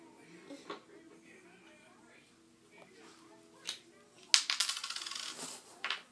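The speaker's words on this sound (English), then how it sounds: "It's a penny. No, they're coins." Coins, including a penny, drop and jingle in a burst of small metallic clinks near the end, following scattered handling noises, with a child and an adult talking around them.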